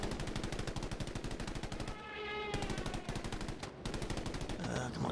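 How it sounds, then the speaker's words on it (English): A rear machine gun on a JU-88 C bomber in Battlefield 5 fires long, rapid bursts of loud rattling shots, broken by short pauses and an engine drone. "There's just no point in getting in your rear machine gun"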